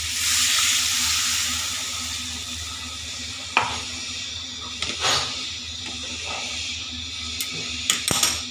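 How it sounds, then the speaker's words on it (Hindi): Water goes into fried potato masala for aloo dum gravy, so a loud hiss and sizzle settle into steady bubbling, with a few sharp clinks of a utensil against the pan near the end. "अब हम इसमें ग्रेवी के लिए पानी डालते हैं।"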